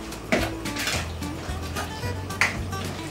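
Chicken mince being mixed with mayonnaise, salt and pepper in a bowl, giving soft wet squelching with a few sharp clinks of a utensil against the bowl, close and steady with no talking.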